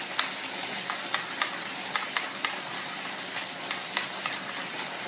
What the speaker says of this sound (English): Super easy to just throw in all the grated cheese, and we're gonna mix it up.